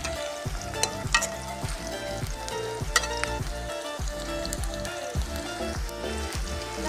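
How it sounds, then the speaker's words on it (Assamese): Onions frying slowly in oil as they start to brown, the base for a meat curry. A steady close sizzle runs throughout, with regular scraping stir strokes and no voices. "লাহে লাহে পিঁয়াজটো সিজিবলৈ ধৰিছে, চাওক অলপমান ব্ৰাউন কালাৰ হৈ গৈছে।"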